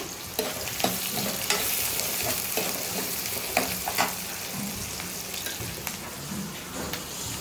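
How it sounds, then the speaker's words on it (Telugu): Chopped onion and green chilli fry in hot oil in a pan, a continuous close sizzle with spattering crackles and occasional scraping stirs, no voices. "కళాయి పెట్టుకుని ఆయిల్ వేసుకున్నా హీట్ ఎక్కింది ఇప్పుడు ఉల్లిపాయ పచ్చిమిర్చి వేసేసుకున్నాను"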